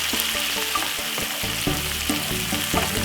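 Food sizzles steadily in a hot pan while cooking Jamaican rice and peas, a continuous loud frying hiss with small crackles and faint stirring clatter.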